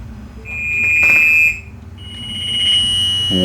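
A Flipsky FT85GS electric bike motor spins up with a steady high electronic whine that rises and holds, then shifts slightly higher, with a low mechanical hum underneath; loud and close.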